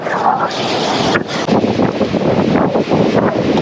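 Wind buffets the flybridge of a 60-foot yacht, a loud, steady rush of microphone wind noise that swells and gusts throughout the short stretch, with water faintly beneath it.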